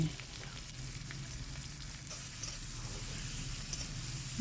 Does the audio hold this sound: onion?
yes